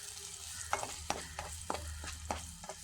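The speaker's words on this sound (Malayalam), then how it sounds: "ഒരു ഏത്തപ്പഴം ചെറിയ കഷ്ണങ്ങളായിട്ട് അരിഞ്ഞത് ഇട്ട് കൊടുക്കാം. ഇട്ടിട്ടൊന്ന് വേവിച്ചെടുക്കാം, വഴറ്റിയെടുക്കാം" Chopped ethapazham (ripe nendran-type banana) sautéing in hot ghee in a pan: a steady close sizzle broken by a series of sharp stirring scrapes at irregular intervals, with no voices.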